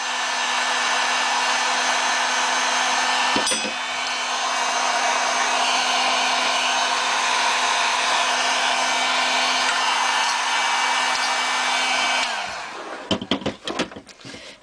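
A heat gun melting leftover wax in a measuring cup runs as a loud, steady whirring blast, briefly interrupted early on, then cuts off and gives way to clattering handling noises; no talking.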